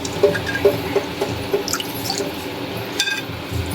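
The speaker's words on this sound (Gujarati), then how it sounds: "હવે આને છે ને આપણે સારી રીતે બે ત્રણ પાણીએ ધોવાનું હોય એક પાણી નહીં" Barnyard millet (moraiyo) is washed in water. Close, gentle sloshing and dripping come with small splashes and soft clinks of a vessel, and no one speaks.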